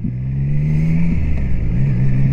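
A Triumph Trident 660 three-cylinder motorcycle engine revs steadily up close, its tone rising and dipping with throttle changes over a continuous drone, with no talking.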